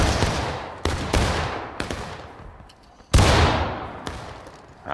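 Several musket shots crack out in a ragged volley in the Civil War video game War of Rights, loud and close, each sharp report trailing off in a long echo, with one heavy blast near the end.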